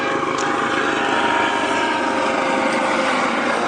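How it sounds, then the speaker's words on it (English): A Coast Guard helicopter passes overhead, its steady broadband rotor and engine roar filling the air at constant loudness, with no talk. "Got a really cool Coast Guard helicopter flying overhead there."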